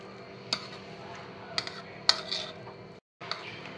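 Sandwich filling of vegetables with salt, oregano and chili flakes being mixed in a bowl: a few distinct clinks of a spoon against the dish over a soft continuous hum, with a brief drop to silence near the end.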